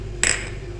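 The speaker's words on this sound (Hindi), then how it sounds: "चम्मच जो हम मुसलसल चलाएंगे, ताकि जो हमारी सूजी है वो जल ना जाए" A spoon scrapes once across a pan of semolina dry-roasting over a low flame, a short, fairly close metallic rasp over a quiet background hum.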